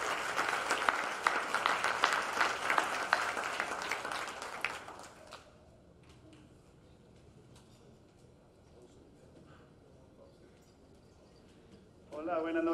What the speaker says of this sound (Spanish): quiero pedirles un aplauso para el doctor Eric Russell